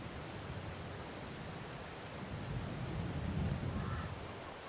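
Steady rain in the farming video game Farming Simulator 22, a dense continuous hiss that holds even and fairly soft, swelling slightly midway, with no voices.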